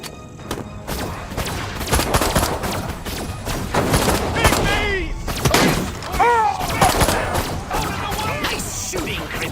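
Crypto fires a disintegrator ray at Santa Modesta police in the Destroy All Humans remake: a string of sharp crackling blasts with warbling electronic chirps, spread across the clip among crashes and other game noise.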